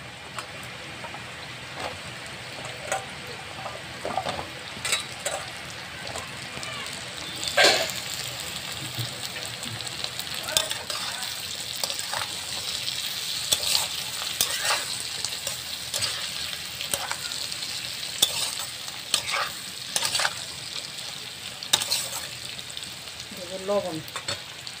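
Potatoes and half-fried onions fry in oil with a steady sizzling crackle, broken by repeated scraping and clinking strokes of a spoon stirring the pan, close and unhurried.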